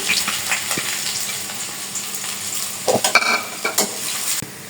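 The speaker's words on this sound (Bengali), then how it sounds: "এটা দিয়ে দিলাম পেঁয়াজ কুচি" Chopped onion fries in a pan after five-spice is added, a steady sizzle with scraping stirs and a few sharp clinks of a utensil against the pan.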